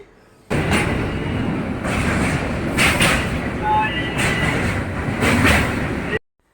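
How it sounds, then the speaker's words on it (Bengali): A passenger train rolls along with a continuous loud rumble and rattle heard from inside a carriage, with brief bursts of faint background voices. "আমরা ট্রেনে উঠে পড়েছি"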